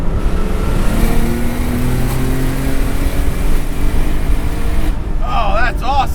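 A 1982 Porsche 930 Turbo slant nose accelerates in second gear through a tunnel, its engine roaring steadily and loud from inside the cabin with a window down, rising in pitch before a brief whine near the end.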